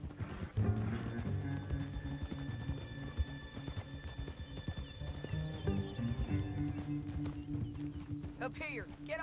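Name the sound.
horse galloping in video game Red Dead Redemption 2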